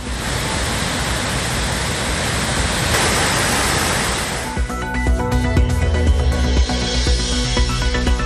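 Rushing water at Thirparappu waterfall in Kanyakumari district, a dense continuous roar that gives way partway through to a different, more tonal background.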